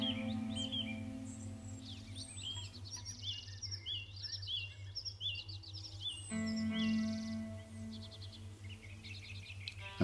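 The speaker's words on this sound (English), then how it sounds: "I'm heralded by several song thrush" Several song thrushes singing in a small deciduous wood, with clear repeated phrases and chirps at middle distance over a steady low hum, quiet overall.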